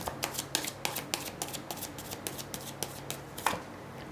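A deck of tarot cards is shuffled by hand up close, giving a quick, even run of crisp riffling flicks with no talk.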